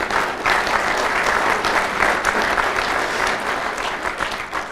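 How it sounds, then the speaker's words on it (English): Loud, dense applause from the audience at the Edmonds 2016 State of the City address, a continuous wash of many hands clapping close by throughout. "And you need to give yourself a round of applause."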